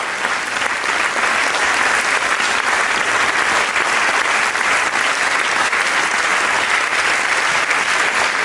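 Sustained applause from a large audience as a couple are welcomed onto a stage, dense and steady clapping with no letup, loud and close throughout.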